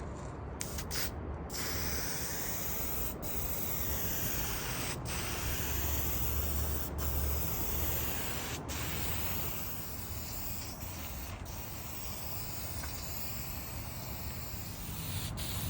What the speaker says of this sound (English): I scuffed with 320 and sprayed some more.